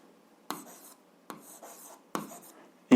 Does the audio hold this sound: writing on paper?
yes